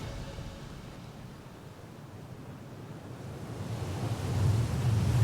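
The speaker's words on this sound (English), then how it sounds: "It's a new day, and the wind has shifted." Wind blows steadily at an ocean shoreline while waves surge and wash in. The broad roar grows louder and fuller toward the end.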